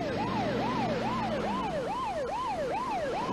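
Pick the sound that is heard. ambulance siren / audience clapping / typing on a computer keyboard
ambulance siren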